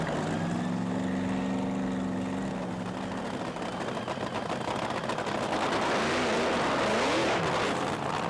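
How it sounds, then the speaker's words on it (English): A drag racing car doing a timid burnout at Santa Pod in 1996 makes a loud, steady engine roar with rising tyre squeal, continuous throughout and heard alone without any voices. "A rather timid burnout."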